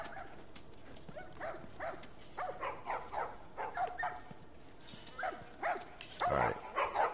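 A dog barks repeatedly in short, sharp bursts during a PS4 playthrough of The Last of Us, the barks moderately loud and irregularly spaced over steady background noise, with a louder, heavier burst near the end.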